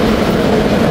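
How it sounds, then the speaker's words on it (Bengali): A train arrives at a station with a loud, close, continuous rumble for a brief moment. "অথচ ট্রেন চলে আসছে"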